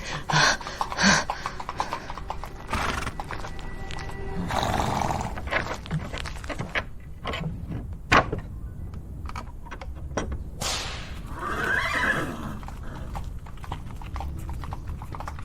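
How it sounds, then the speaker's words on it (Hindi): A horse-drawn tonga approaches with steady, rhythmic clip-clop of hooves, joined by a horse's snorts and whinnies, growing louder and close. "हाँ, एक तांगा आता दिखाई दे रहा है।"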